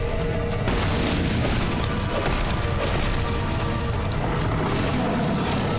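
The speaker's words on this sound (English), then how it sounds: "Explosion!" A loud, sustained explosion rumbles in the video game Dark Souls 2, a dense roaring blast that fills the whole stretch without speech on top.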